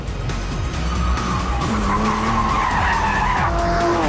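A Singer-restored classic Porsche 911 brakes hard into a hairpin on a test track, tyres squealing loudly over the engine as it drops through the gears, a continuous close skid running throughout.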